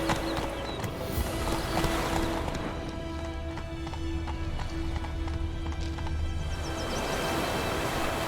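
Roach, a horse in The Witcher 3 video game, gallops with steady rapid clip-clop hoofbeats, loud and close, running continuously over a droning musical background.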